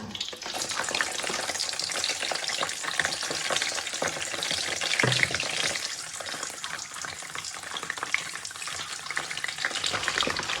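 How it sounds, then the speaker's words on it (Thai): Peeled boiled eggs fry in hot oil, making a dense, loud, continuous crackling sizzle close up for over ten seconds, with one brief clunk midway and no voices. "พอน้ำมันเริ่มร้อนนะคะ ก็นำไข่ลงไปทอดได้เลยค่ะ"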